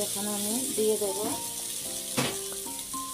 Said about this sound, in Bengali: এগুলা ভালো করে আমি ভেজে নেবো আর একটু